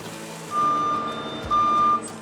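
A truck's reversing alarm sounds two drawn-out, steady beeps over a constant low engine rumble, fairly close, with no talking.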